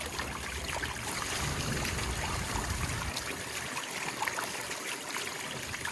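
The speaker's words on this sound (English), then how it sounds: "Pour this one off one more time." Water pouring and trickling off a gold-prospecting pan of paydirt outdoors, a steady close splashing flow across the whole stretch that thins slightly toward the end.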